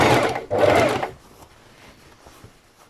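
A sewing machine stitches bias tape onto an A-line summer dress, sounding as a loud, close motor whir that lasts about a second before dropping to quiet handling sounds.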